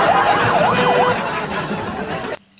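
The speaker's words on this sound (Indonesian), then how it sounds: "aku mau bunyikan dulu ambulans" An ambulance siren sound effect plays loudly with rising and falling wails over a murmur of background chatter, then cuts off abruptly near the end.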